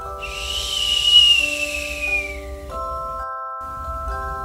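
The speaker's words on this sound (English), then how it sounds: "The sound is like a whistle, and it's coming from nowhere." A bright, sliding whistle sound effect sweeps up then gently falls over about two seconds, followed by a soft tinkling, chime-like string of sustained tones.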